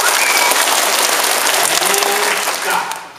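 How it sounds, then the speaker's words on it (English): Elementary schoolchildren at a school assembly clap together in a dense, loud burst of applause that fills the room, holding steady before tapering off abruptly near the end. "I want you to start clapping your hands"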